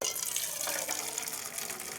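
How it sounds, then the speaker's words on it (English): Warm liquid hide glue strained from soaked hide pieces pours into a small metal coffee can, giving a steady, continuous trickle and splash at close range with no talking. "strain all those hide pieces off, and get the fluid collected in this little coffee can"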